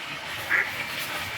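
Ducks near the water give a single short, nasal quack that stands out briefly over faint outdoor ambience.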